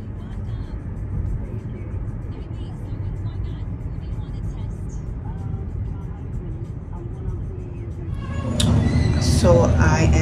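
Road noise from inside a moving car during a ride to work, a steady low engine and tyre rumble that swells louder toward the end.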